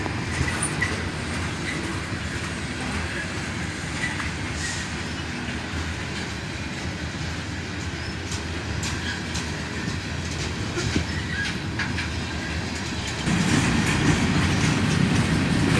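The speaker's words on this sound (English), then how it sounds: "And check out this approaching cut of covered hoppers." A freight train of dirt-caked covered hopper cars rolls past close by, a steady heavy rumble with wheel clatter and faint squeals, growing louder near the end.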